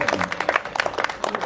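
An audience at a Hindi kavi sammelan poetry gathering in Faridabad claps, with a quick scatter of overlapping handclaps that sound close and lively but brief and thin, like a small group.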